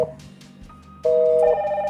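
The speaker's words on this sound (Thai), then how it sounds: "กดโทรออก เนี่ยครับ โทรหากันได้ เหมือนโทรศัพท์ภายในนะครับ" A Hikvision DS-KC001 video intercom places an internal call. After a second of low room noise, a loud, steady electronic ringing tone begins close by and holds, shifting pitch partway through.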